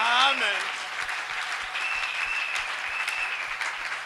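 Congregation in a church breaking into sustained applause, a dense steady clatter of many hands that stays loud for several seconds, with a voice rising briefly at the start.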